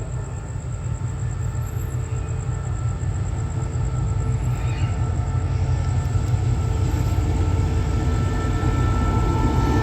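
Isan Watthana special express train no. 23, Bangkok Krung Thep Aphiwat to Ubon Ratchathani, stands at a station platform, giving off a steady, loud idling rumble with a thin high whine running unbroken throughout.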